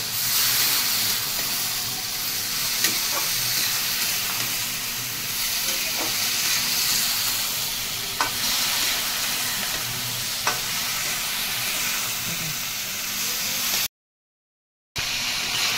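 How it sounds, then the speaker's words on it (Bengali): Shukto vegetables frying in a covered pan give off a steady, even hiss with a few faint clicks from the pot, continuing at a constant level until a brief sudden silence near the end. "আমি এটা শুক্তোটা কিন্তু ঢাকা দিয়ে দিয়ে ভাজছি, যাতে সবজিটা সিদ্ধ হয়ে যায়"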